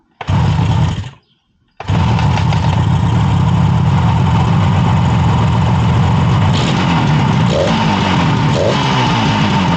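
A 1967 Yamaha YR1 twin-cylinder motorcycle engine runs close and loud with both cylinders firing, a steady rattling idle that cuts out briefly near the start, then restarts and keeps running with slight revs.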